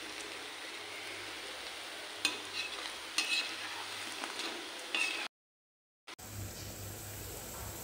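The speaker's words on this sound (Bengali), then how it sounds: "আমি এভাবে বারবার উল্টো পাল্টে ভাজা করে নিচ্ছি" Potato pakoras frying in oil and being turned over and over, a close, steady sizzle with scraping and clinking from the turning, then a brief silence before the frying resumes.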